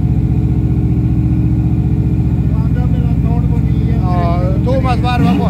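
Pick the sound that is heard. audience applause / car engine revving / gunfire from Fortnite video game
car engine revving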